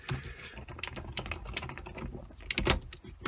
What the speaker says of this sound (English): Undo these contact bolts.